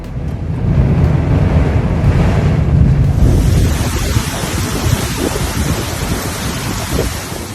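Intense storm in the Saudi Arabian desert with torrential rain and large hail, a loud roaring wash of wind and downpour that starts rumbly and turns to a broad steady hiss, no voices.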